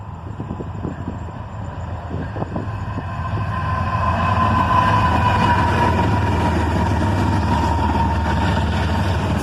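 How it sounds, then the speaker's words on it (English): A southbound CSX autorack freight train led by ET44AH and ES40DC locomotives rumbles past, a heavy steady roar that swells and holds loud, with a drawn-out tonal wail above the low rolling noise. "An ET44AH and an ES40DC lead a southbound autorack train."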